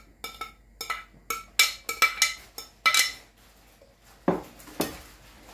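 A utensil stirs ceviche with added avocado in a bowl, giving a quick series of sharp clinks and scrapes against the dish, close and fairly loud, with no talking.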